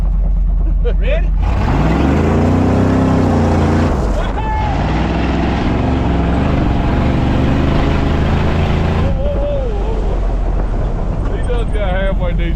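A 1968 Ford F100 pickup, low on gas, rumbles loudly as it pulls away with shifting engine tones, while people talk and cheer nearby.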